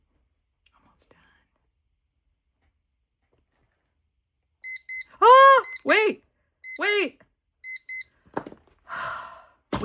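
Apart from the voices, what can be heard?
timer beeping at the end of a countdown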